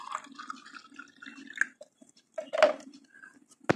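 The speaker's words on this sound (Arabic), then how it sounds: "هنضع ماء الفلتر" Filtered water poured into a container for growing plants in water, heard as irregular drips, splashes and gurgles with a sharp clink near the end, close and fairly quiet.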